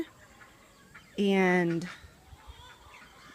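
A brown hen and other chickens in a garden, with a loud, drawn-out clucking call that rises and holds briefly, set against quieter background clucks and rustling.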